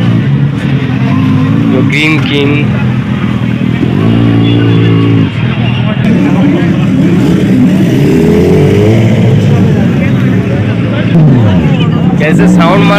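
Superbike engines revving on a Republic Day group ride, loud rising and falling throttle blips and a steady engine roar close by, with people talking over the noise.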